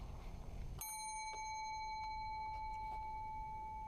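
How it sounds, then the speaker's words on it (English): A small desk bell is struck with a clear ring that sustains and then keeps getting tapped at steady intervals, the tone ringing on near and alone. "I'm going to sit here and ring this bell until you come back over here and take this paper from me."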